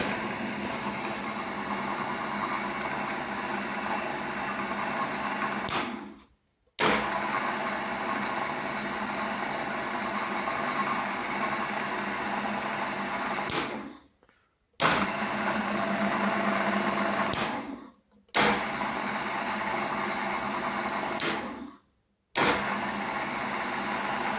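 A homemade drill press motor with a front start button runs steadily with a dense, even whir, cutting out briefly several times before spinning back up, close by with no talk.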